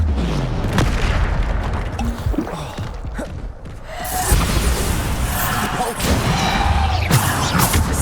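Booming spell blasts and crashes from the Bombarda spell in Hogwarts Legacy, heavy thuds with whooshes and debris over busy combat noise, with a character shouting spell names throughout.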